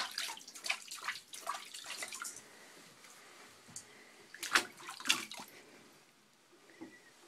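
Water splashes and trickles during an eight-month-old baby's bath, with irregular close splashes and drips. A few louder bursts come near the middle, and quieter moments fall between them.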